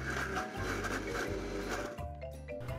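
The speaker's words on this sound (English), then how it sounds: "Now we're just gonna blend." A blender whirs through tomatillo sauce for al pastor, a loud mechanical grinding with shifting pitch and brief stutters as the blades catch, running alone without talk.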